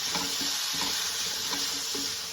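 Curry leaves and chopped onion fry in hot oil with ginger, garlic and chilli, giving a steady close sizzle with soft, regularly spaced stirring scrapes underneath.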